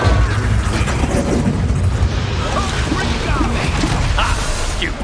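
Fire spell bursts from the video game Hogwarts Legacy: a dense, loud roar of whooshing flame and booming impacts fills the whole span, with battle noise and voices mixed in.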